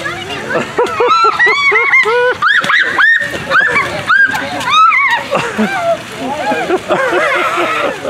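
A giant water balloon bursts on a backyard trampoline, releasing a heavy splash and sloshing rush of water amid excited shouts and chatter from children and adults.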